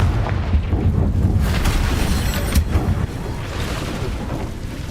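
A booming, rumbling blast from the Confringo spell in Witch Simulator 2023, a loud, low roar that rolls on for several seconds with sharp cracks layered on top before slowly fading.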